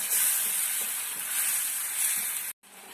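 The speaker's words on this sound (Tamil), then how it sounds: "நல்லா எண்ணெய் பிரிஞ்சு வர அளவுக்கு நல்லா வதக்கிக்கலாம்" Ground green chili and tomato paste sautéing in hot oil, a loud continuous bright sizzle with occasional stirring scrapes, cutting out briefly near the end before resuming more quietly.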